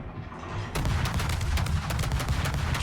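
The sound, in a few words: warship gunfire in World of Warships video game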